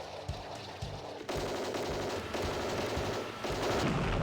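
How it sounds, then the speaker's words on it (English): Ship cannon firing in the naval video game Jane's Fleet Command, rapid repeated gunfire bursts with a dense, rolling rumble that builds in loudness, no speech. "All right, firing his cannon."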